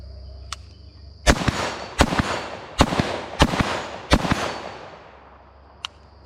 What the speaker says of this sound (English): Let me shoot this thing a little bit with my new trigger.